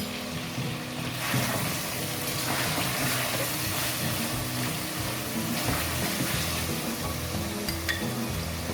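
Water goes into a hot karahi of spices for mutton karahi, a loud, continuous sizzling hiss that holds steady with faint stirring scrapes and no talking.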